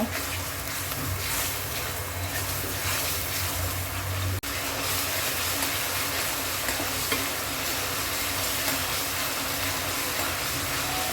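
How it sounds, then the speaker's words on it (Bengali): Ginger and garlic paste frying in hot oil, a steady crackling sizzle with stirring noises that continues throughout, broken by one brief sharp click partway through. "আদা রসুনটা একটু তেলের মধ্যে ভেজে নিব।"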